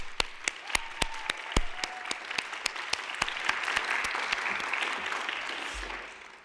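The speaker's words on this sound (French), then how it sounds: "On peut encore les applaudir toutes les quatre." Applause from a small audience at the final of a verbal jousting contest, a few sharp, distinct claps standing out over a softer steady clapping that swells and then fades away.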